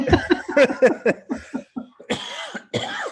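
Several harsh coughs in a quick uneven series, close and fairly loud, with throaty breaths and a short chuckle-like sound between bursts.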